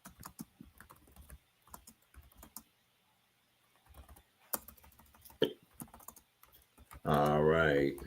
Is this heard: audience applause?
no